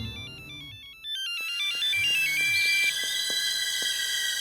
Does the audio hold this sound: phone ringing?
yes